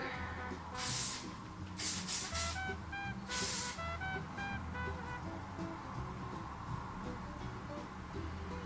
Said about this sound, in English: I'm going to spray in it and see if that will give it some more volume.